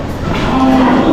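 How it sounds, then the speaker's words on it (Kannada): Cattle at a mutt's cowshed low in a single loud, close moo that rises into a sustained tone, heard alone without talking. "ಪ್ರತಿಯೊಂದು ಹಸುಗಳು ಮುದ್ದಾಗಿದೆ."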